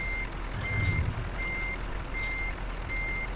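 Evenly spaced reversing beeps sound from a truck backing up in Euro Truck Simulator 2, five steady tones over a constant low engine rumble, with no talking.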